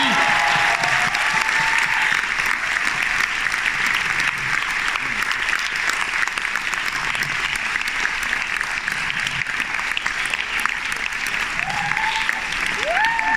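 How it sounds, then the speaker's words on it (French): Steady, dense audience applause fills the whole stretch, honoring the film team of the French movie En Fanfare at a club screening event; faint voices and whistles poke through the clapping. "L'équipe de En Fanfare, des applaudissements s'il vous plaît, vraiment mérités."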